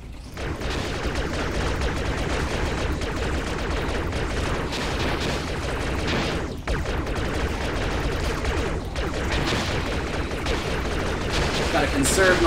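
Continuous loud battle din from the VR shooter Serious Sam VR: The Last Hope, steady gunfire and booming blasts packed densely for the whole stretch, with barely a pause.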